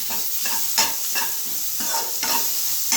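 Homemade spices are stirred in a hot pan over high flame for egg noodles: a soft sizzle runs throughout, broken by a few distinct spatula scrapes at an unhurried rhythm, with no talking.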